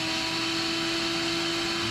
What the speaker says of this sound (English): So I'll vacuum that.